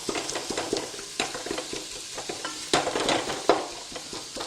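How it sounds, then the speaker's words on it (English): A spoon presses and mashes thick haleem in a cooking pot, making repeated soft, wet scraping and tapping strokes in an uneven rhythm over a faint simmering sizzle, close and fairly quiet. "slightly mash it with your spoon"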